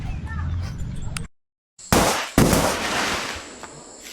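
Hari Raya fireworks crackle and pop in sharp bursts after a brief silence, with voices talking in the background around them.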